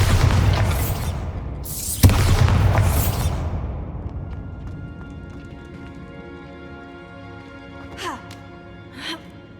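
Bombarda blasting spell in Hogwarts Legacy, a heavy booming explosion with a sharp crack followed by a long rumbling decay, then a couple of faint magical chimes.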